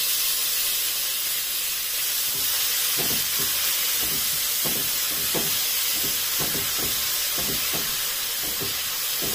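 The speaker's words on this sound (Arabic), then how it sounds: "في نفس الطاسه اهي نحط بصله" Onion sizzling in a pan of oil, a steady bright hiss and crackle with soft irregular pops and spatters scattered through, close and continuous.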